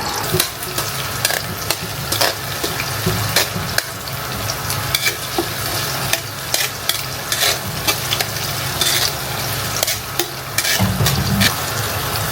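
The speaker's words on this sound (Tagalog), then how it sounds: "nilagyan ko nga ng mantika. What's next? Bawang." Garlic frying in cooking oil for a simple Filipino chicken sopas, a steady dense sizzle with frequent sharp scraping stir clicks throughout, moderately loud and close, no talking.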